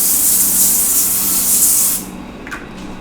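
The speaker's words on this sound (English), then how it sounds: "Let's start by spraying this down a little bit with a little bit of spray." Cooking spray hisses onto tin foil while vegan onion flax crackers are being prepared. A loud, steady burst lasts about two seconds and then cuts off, followed by a faint rustle.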